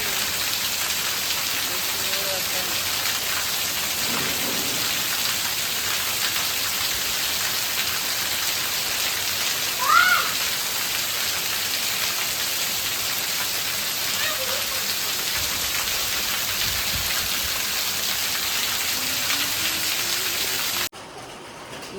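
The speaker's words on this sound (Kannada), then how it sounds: "ಮೃಗಶಿರ ಮಳೆ ಜೋರು ಬರ್ತದೆ." Heavy monsoon rain falls steadily and loudly, with a dense constant hiss of drops on surfaces throughout, a brief louder splash near the middle, and the sound dropping off abruptly just before the end.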